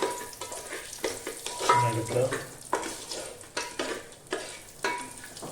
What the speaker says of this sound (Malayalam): മുന്തിരി ഈ നെയ്യിൽ ഇട്ട് കഴിഞ്ഞാൽ വളരെ എളുപ്പത്തിൽ അത് വീർത്ത് വരും